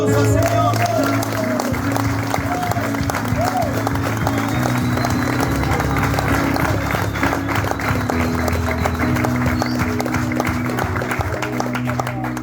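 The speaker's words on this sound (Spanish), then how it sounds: "Dale un aplauso al Señor." Congregation applauding during a Spanish-language church sermon, steady clapping and crowd noise sustained throughout, with voices and low music underneath.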